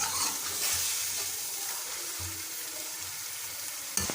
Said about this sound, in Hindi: दो 3 मिनट हमने इसकी फ्राई कर ली है।